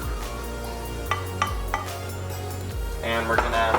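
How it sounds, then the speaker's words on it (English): Flour and milk being stirred into a paste in a container for a butterscotch pie, with several sharp clinks of a utensil against the container under a steady kitchen hum and a brief spoken phrase. "mix this together to make a little bit of a paste"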